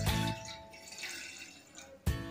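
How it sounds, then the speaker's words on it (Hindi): Water poured into a cooking pot on a gas stove in a kitchen: a loud splashing pour at the start, then a quieter trickling, gurgling stretch, and a second louder splash of water near the end. "पतीला में पानी डालेंगे।"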